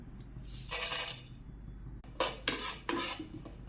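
Cardamom pods and cloves are dry-roasted in a pan for spiced tea, with close, bright rattling and scraping as the spices are stirred and tossed against the metal in several short bursts.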